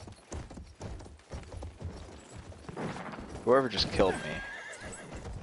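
In the Battlefield 1 video game, a horse's hooves clip-clop while it neighs loudly midway, layered with game sounds as someone talks over it.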